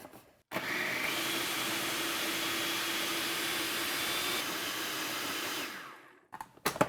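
A food processor blends a falafel mixture in one sustained, loud whirring run of several seconds, then stops, leaving a few knocks and clatters.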